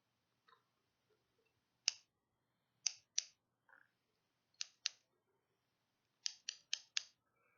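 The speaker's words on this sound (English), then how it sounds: "I'm going to begin by cutting the hair on your sides." Sharp scissor snips cutting hair at the sides in a salon roleplay, heard close and crisp as isolated single and double snips, then a quick run of four near the end, with no talking.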